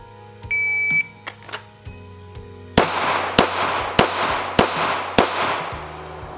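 A shot timer's beep opens a pistol Bill Drill, followed by a rapid string of six sharp, loud gunshots fired in close, even succession on a shooting range, with no talk.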